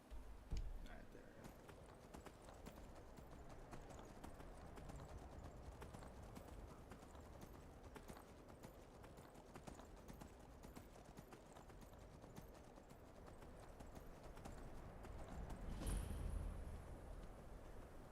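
Horse hooves clip-clop steadily along a road in a Dota 2 match, a continuous rhythmic patter at moderate distance throughout, mixed with game noise and occasional talk.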